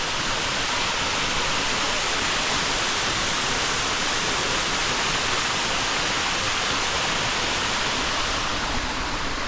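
Water pours steadily down Munthal waterfall near Punnaiyapuram, a loud, continuous broadband rush close by that holds an even level throughout with no pauses.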